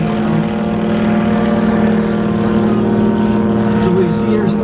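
An RCMSAR search and rescue jet boat drones steadily as it comes in during a harbour demonstration, a loud continuous engine hum with a faint voice briefly over it.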